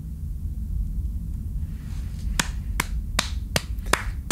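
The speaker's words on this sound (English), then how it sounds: "Alter, die Claps einmal." Five sharp hand claps ring out one by one at roughly even spacing over a low steady rumble, each crisp and close, with no talking.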